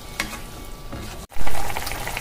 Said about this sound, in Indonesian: Kita tunggu sampai mendidih, betul-betul mendidih.